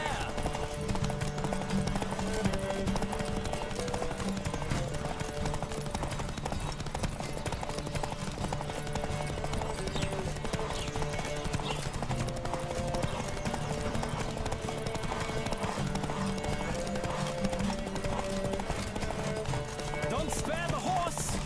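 A horse gallops in The Witcher 3 game, a fast, continuous clip-clop of hooves running for the whole stretch beneath music and occasional spoken lines.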